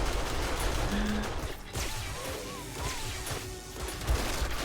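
Automated turrets in the video game 7 Days To Die fire irregular sharp cracks and thuds through a dense, noisy game mix, continuing for several seconds.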